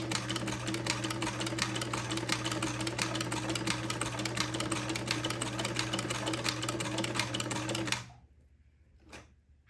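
A sewing machine stitching a buttonhole runs steadily with a fast, even mechanical chatter and hum, then stops abruptly, leaving near silence with one faint knock.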